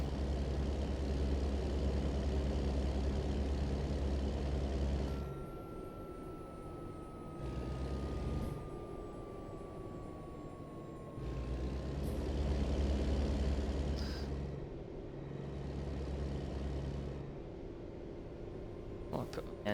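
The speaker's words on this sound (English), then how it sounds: "I prefer this truck, but just because of the sound." A video game truck engine rumbles and idles with shifting revs, pausing briefly between bursts, with a faint falling tone partway through.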